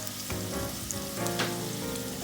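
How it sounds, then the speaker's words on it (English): Garlic sizzling steadily in a hot pan with onions during risotto preparation, a close, continuous frying crackle broken by brief scraping bursts of stirring. "Add in the garlic and you just give it a quick stir"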